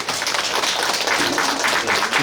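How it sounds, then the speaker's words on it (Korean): Applause from a theater audience at a film screening Q&A, greeting director Lee Myung-se; dense, steady clapping fills the space at even loudness throughout, with no voices above it. "이명세 감독님께도 박수 한번 부탁드리겠습니다."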